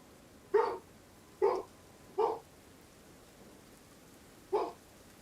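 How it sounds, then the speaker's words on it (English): A dog barks four separate times at a moderate distance, three quick barks spaced about a second apart then a pause before a fourth, over a faint steady background hiss with no talking. "Also, you may hear a dog barking."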